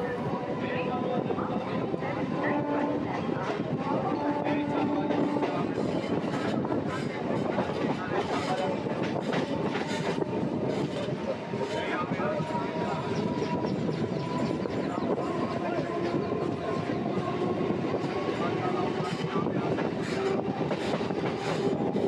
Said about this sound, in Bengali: এই আমাদের ট্রেন, তার শেওড়াফুলি জংশন তা এখন বর্তমান গন্তব্য ছেড়ে তার পরবর্তী গন্তব্য স্টেশন দিয়ারার উদ্দেশ্যে রওনা দিয়েছে